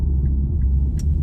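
An Infiniti Q50 driving along under load, its engine a low, steady rumble with road noise beneath, constant and close, with a couple of faint high ticks over it and no voices.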